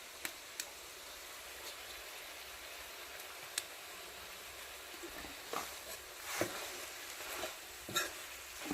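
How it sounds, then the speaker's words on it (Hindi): Turmeric, salt and spice masala fry with chicken in a pan over a soft, steady sizzle, with a few scraping stirs and clinks of a utensil growing busier toward the end, no talking. "तो चलिए अब मसाला को भी डाल देते हैं, साथे में भून जाएगा"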